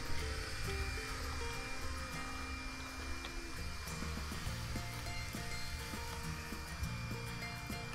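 A robotic lawn mower works across a home lawn, giving a steady, continuous electric motor whir with a faint tonal whine and shifting low hum, close by and fairly even in loudness throughout, with no voices.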